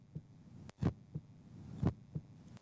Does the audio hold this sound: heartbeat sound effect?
yes